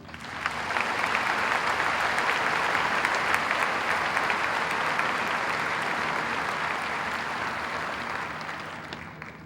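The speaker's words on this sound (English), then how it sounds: "present the salutatorian medallion to David, I would ask that you join me again in honoring him with a round of applause" A high school commencement audience giving a sustained round of applause, thick continuous clapping that swells in and tapers slightly toward the end, filling the hall at moderate loudness.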